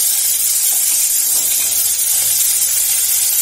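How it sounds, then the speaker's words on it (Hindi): Onions sizzling in hot oil in a pan with ginger, garlic and green chillies while cooking Lafa saag, a steady close hiss of frying throughout with no pauses. "प्याज डाल रही हूँ"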